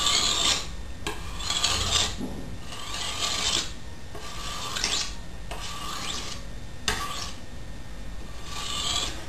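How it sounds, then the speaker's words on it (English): A sharpening stone rasps in repeated sweeping strokes along the convex edge of a machete, a micro bevel being honed at a slight angle; about eight rhythmic, close, steady scraping passes with brief gaps, no talking. "For the longer sweep of the convex edge, I like to angle the stone a little bit"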